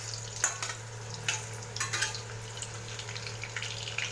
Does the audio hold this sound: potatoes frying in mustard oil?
yes